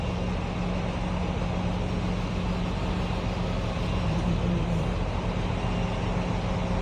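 A bus rumbles past on the road amid steady traffic noise, a broad low drone that stays fairly constant.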